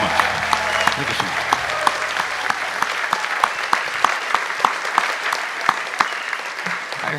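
Audience applause at a country music show in West Florida, a sustained crowd clapping with a rough shared beat, with speech heard near the start over the clapping.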